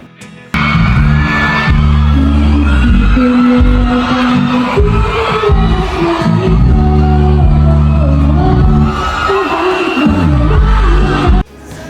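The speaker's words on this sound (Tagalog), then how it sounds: "Walang tigil ang hiyawan ng mga tao habang kumakanta ang dalaga" Fans at a kick-off tour cheer and scream nonstop while a young woman sings, loud crowd shouting layered over booming live music with sustained vocal tones, cutting off abruptly at the end.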